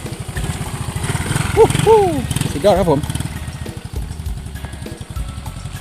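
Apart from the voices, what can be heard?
four-stroke motorcycle engine idling during test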